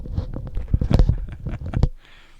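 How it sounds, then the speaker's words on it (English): Chewing close to a headset microphone makes loud, wet, irregular munching and crunching bursts for about two seconds, then fades to a quiet hiss. "It's probably quite loud there, the chewing"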